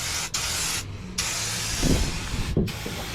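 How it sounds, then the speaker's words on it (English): An aerosol can sprays black paint onto a car floor, a close, loud hissing in long bursts broken by short pauses, with faint rumbling underneath. "once we spray paint this thing black"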